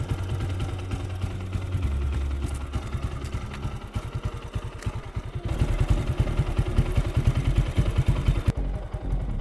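A motorcycle engine runs close by at idle, a fast mechanical chatter and knocking throb that grows louder and rougher partway through, then briefly cuts off near the end.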